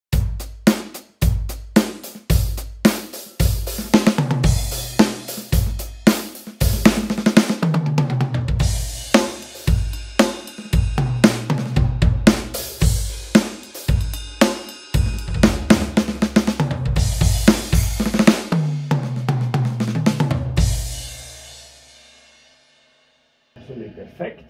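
Tight, old-school Roland keyboard patch played in a steady rhythmic run of punchy notes with bass and chords, loud and close, fading out near the end with no talk.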